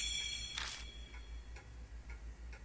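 A clock in the video game Spirit Hunter: NG ticks after its long hand is spun, giving a brief burst of whirring followed by four or five soft, evenly spaced ticks over a steady low hum.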